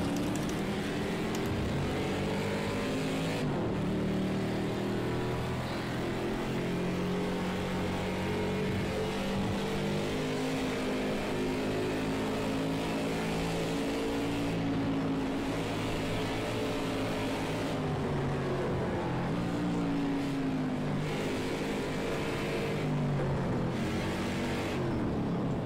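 Mars rover vehicles from the Project Cars 2 Fun Pack, limited to three gears on off-road tyres, driving in a race with a continuous droning electric-motor whine and shifting engine tones, no voices.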